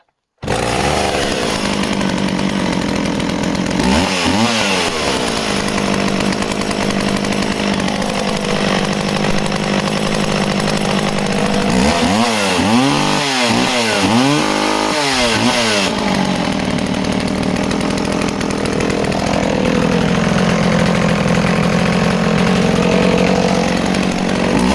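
A vintage 1960 chainsaw with an aluminium underside plate runs loud and steady and close by, with no talk, its engine surging into revving bursts several times before settling back to a constant drone.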